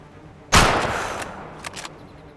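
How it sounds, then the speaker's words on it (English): A single loud .338 rifle shot fired in the hunting video game Way of the Hunter, a sharp crack followed by a rolling echo that fades over about a second. "this is the very first time I tried to shoot something with this weapon."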